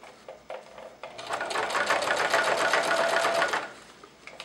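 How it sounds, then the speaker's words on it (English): A sewing machine stitching fabric for a radio-control microlight wing, running steadily for about two and a half seconds with a rapid, even mechanical chatter, close and clear, after brief quieter handling noises. "so I'm sewing the wing here."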